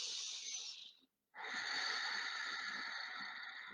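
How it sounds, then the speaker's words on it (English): Deep, full breaths during a morning yoga practice, a long airy exhale, a short pause, then another long steady breath, close and alone. "full breaths here."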